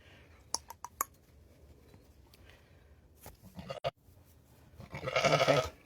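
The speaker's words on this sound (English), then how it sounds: "I've got sheep coming to see me" Sheep bleat close by in a dim, quiet rural setting, with a few sharp clicks early on and a louder, drawn-out bleat near the end.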